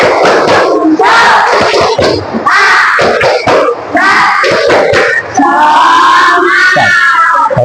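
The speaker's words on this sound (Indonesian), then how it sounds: "Tepuk semangat." A classroom of students performs the tepuk semangat chant, shouting rhythmic phrases in unison with bursts of clapping in several loud, close groups separated by short pauses.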